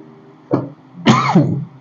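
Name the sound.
cough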